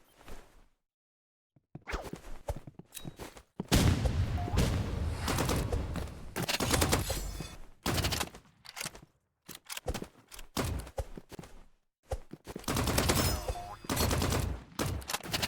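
Bursts of gunfire from the video game Rivals, loud and close, arriving in dense volleys separated by short pauses, with whooshes and thuds mixed in.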